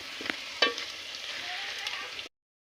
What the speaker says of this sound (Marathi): आता खडा मसाला व्यवस्थित त्याच्यासोबत फ्राय करून घ्यायचा